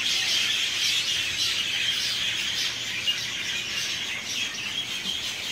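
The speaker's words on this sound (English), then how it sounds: "So there's a bunch of birds up there going nuts." A flock of birds calls loudly and continuously overhead on a Maui plantation, a dense, steady chorus of chirps and squawks with no talking.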